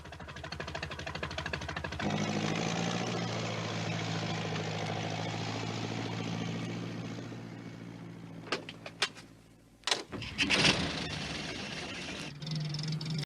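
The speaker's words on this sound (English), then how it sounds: "It was Alf Thompson on his tractor" A steady, rumbling motor drones close by for several seconds, then rattles and knocks as it shifts before settling back into a lower idle.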